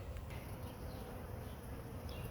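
Worker honey bees buzzing in an opened hive of a struggling colony, a steady dense drone close to the microphone, continuous and without pause.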